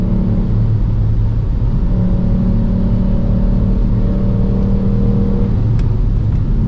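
A Ford Puma ST engine accelerates in fifth gear, a steady loud droning hum with a slowly rising tone heard from inside the car, alone without talk.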